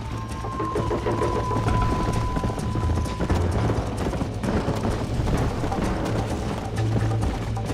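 Galloping horse hooves in Red Dead Redemption, a fast rhythmic clip-clop running continuously and loud over a low background hum.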